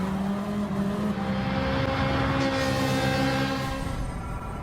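Lamborghini Huracán race cars in a racing game at Dragon Trail Seaside, a steady loud engine drone with whining tones as several cars run close together.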